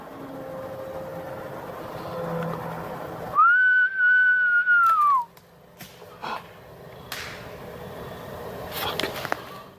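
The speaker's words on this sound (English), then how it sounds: "Should I whistle?" A person whistles in dark woods at night: one loud, close, sustained whistle lasting about two seconds that rises slightly, holds, then bends down at the end, set against quiet outdoor background.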